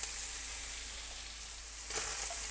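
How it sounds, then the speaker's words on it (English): Beef and asparagus sizzle in a hot stir-fry pan, a steady bright hiss of frying that swells briefly near the end, with no voices. "And now I'm gonna leave the beef and the asparagus to just sit there and cook on one side"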